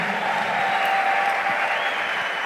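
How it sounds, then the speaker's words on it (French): A church congregation applauding, steady dense clapping from many hands filling the room at close range, with no break throughout. "Est-ce qu'on peut acclamer le Seigneur Jésus?"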